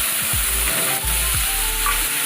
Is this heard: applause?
no